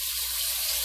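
Water splashed into a hot oiled pan of browning homemade potstickers, giving a steady hissing sizzle of steam and spitting oil that holds at an even level throughout.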